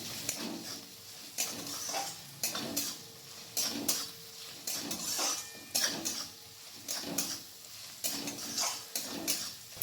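A spoon scrapes and clinks rhythmically against a pan while garlic and ginger paste is stirred for a chicken chop filling, with repeated metallic taps every second or so and a faint sizzle underneath.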